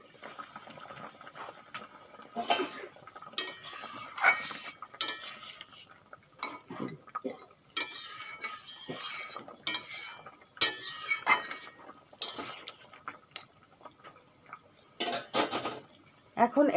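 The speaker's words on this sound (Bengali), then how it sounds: "এখন চাপা দিয়ে দেব।" A metal pot lid set onto a pan of fish curry, with scattered clanks and scraping of cookware over several seconds and a voice speaking now and then.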